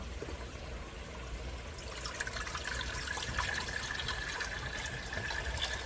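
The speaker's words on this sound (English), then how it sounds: "we're going to add water to our cast iron dish." Water pours steadily into a cast iron dish, a continuous splashing trickle that swells after a couple of seconds and keeps running.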